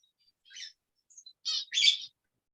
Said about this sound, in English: is this squirrels or birds? Both. Oh, bird.